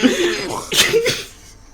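A couple of harsh, close coughs with throat-clearing, loud and abrupt, fading into quiet at the end.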